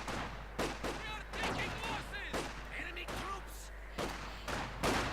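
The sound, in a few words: gunfire from video game Company of Heroes 2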